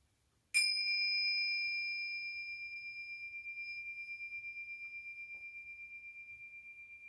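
A meditation bell struck once, a sharp close strike followed by a clear ringing tone that sustains and slowly fades with a gentle pulsing shimmer, alone in an otherwise quiet room.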